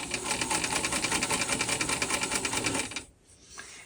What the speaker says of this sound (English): My brother gave me this sewing machine and I love it.